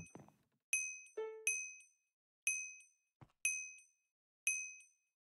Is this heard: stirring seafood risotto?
no